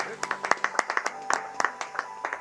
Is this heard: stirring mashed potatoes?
no